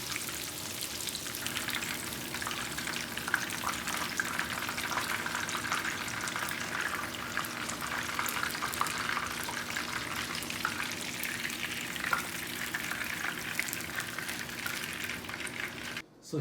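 Pork tonkatsu cutlet frying in oil, a continuous, dense crackling sizzle with fine popping that stays even and close throughout before cutting off at the end.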